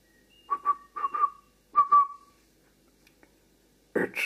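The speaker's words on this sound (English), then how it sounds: "It's Duncan's whistle" Duncan, a cartoon engine from the Thomas stories, sounds a series of short, clear whistle toots in quick pairs, then a longer blast, alone in near silence before a final burst.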